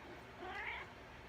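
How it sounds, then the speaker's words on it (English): A cat gives one short, fairly faint meow midway through, over a quiet indoor background with no talking. "Fucking cat."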